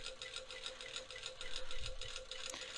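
A sewing machine stitches a seam on men's track pants, a quiet, close, evenly pulsing mechanical whir with a fast repetitive rhythm and faint rattles.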